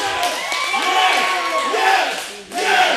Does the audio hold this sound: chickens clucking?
no